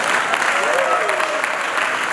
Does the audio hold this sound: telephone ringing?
no